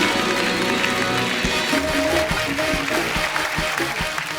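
A studio audience at the Kapil Sharma Show claps loudly to welcome guests onto the stage, a dense, continuous wash of applause with some rhythmic claps standing out partway through.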